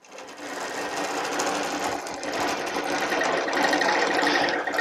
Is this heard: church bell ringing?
no